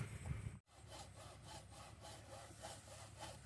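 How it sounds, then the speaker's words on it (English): A hacksaw cuts by hand through a brand-new Century poly hay feeder, with rhythmic back-and-forth rasping strokes after a brief pause near the start, close and steady. "And I just cut through it with a hacksaw."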